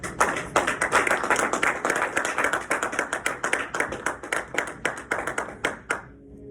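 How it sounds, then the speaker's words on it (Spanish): A church congregation claps in praise of Jesus, a dense burst of loud, close applause with quick overlapping hand slaps that hold steady for about six seconds and then stop suddenly. "Denle un aplauso a Jesús."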